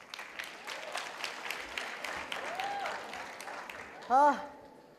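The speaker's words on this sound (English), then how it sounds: "Can you applaud him for that?" Graduation ceremony audience applauding in a large hall, a steady wash of clapping with a few cheers and voices mixed in, easing off near the end as a brief loud tone cuts through.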